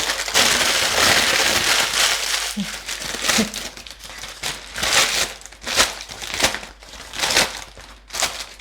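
Parchment paper being crumpled by hand while making traditional German Christmas cookies: a close, loud, continuous crinkling and crackling that swells in repeated waves, with faint talking beneath it.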